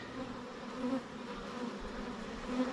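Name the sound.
honey bees buzzing around a beekeeper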